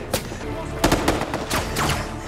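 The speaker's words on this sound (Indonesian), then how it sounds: "Dan baku tembak pun tidak terelakkan lagi." Gunfire in a film shootout with cattle thieves, several sharp bursts of shots cracking out in quick clusters over a busy, noisy background.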